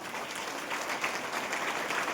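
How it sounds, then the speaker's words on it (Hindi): An audience applauds continuously at a seminar, producing a dense wash of claps that holds at an even level throughout, fairly distant and moderately loud, with no talking over it. "एक बार अपने लिए जोरदार ताली बजाएं।"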